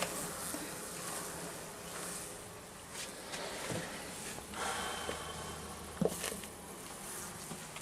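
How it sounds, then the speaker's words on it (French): A dense mass of honey bees hums continuously around an emptied hive feeder, a close, even buzz with occasional louder passes and faint knocks, no voices. "Vous voyez que même s'il n'y a plus de nourriture dedans, il y a encore une masse d'abeilles."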